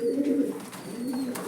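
Pigeons cooing close by, two low throaty rolling coos in quick succession over a quiet background.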